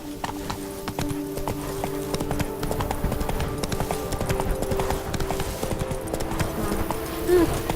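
Horse hooves clip-clop in a steady, close, rapid rhythm as a horse is ridden in The Witcher 3: Wild Hunt, with a faint whinny near the end.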